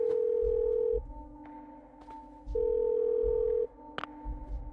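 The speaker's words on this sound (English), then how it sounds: "good thing you know how to use a rotary phone" Old rotary telephone in the video game Parasite Eve 2: a steady dial tone sounds in two long bursts, with clicks and handling noises between them, close and clear with no talk.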